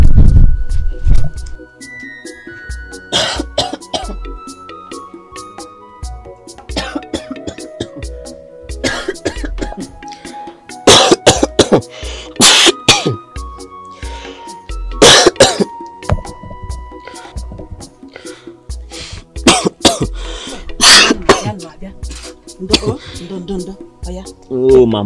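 Repeated coughs and throat clearing from people in a Nigerian village drama, in several loud bursts spread through the scene, with speech between them.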